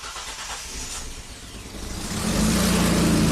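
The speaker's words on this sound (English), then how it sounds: "Let's start up the truck." A Mitsubishi Montero 4x4 truck engine cranks and catches, then settles into a steady, loud rumbling idle close by.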